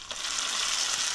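Mustard paste with chilli and coriander powder sizzles steadily in hot oil in a pan while being stirred for a koi fish curry, a close, continuous frying hiss with no talk.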